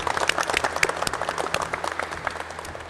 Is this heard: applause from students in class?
yes